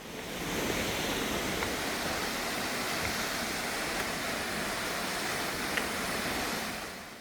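Ssang waterfall in Yeoncheon, reached by a wooden deck path down the valley, pours as a steady, even rush of falling water heard from fairly close, with no voices.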